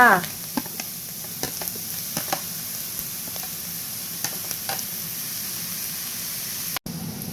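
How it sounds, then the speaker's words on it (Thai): Clams tossed with chili and garlic in a hot wok sizzle steadily and close by, with occasional scraping stir strokes and spatters over a continuous frying hiss. "พริกกับกระเทียมหอมแล้วก็ใส่หอยลายเลยจ้า"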